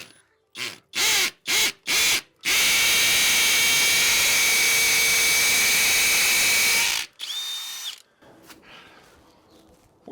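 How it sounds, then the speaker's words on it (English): A hammer drill boring starting holes for a bike holder mount gives several short bursts, then one long, loud, steady run. A brief lighter whir and quieter handling noises follow. "Is this a hammer drill?"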